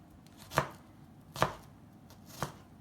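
A kitchen knife chops vegetables on a cutting board for plant-based Brazilian acarajé, giving three crisp, evenly spaced, fairly quiet chops with near silence between and no talking.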